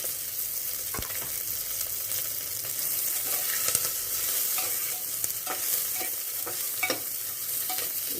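Small onions and whole spices fry together in hot ghee, a steady close sizzle with bright crackles and occasional sharp pops, stirred now and then, with no talking.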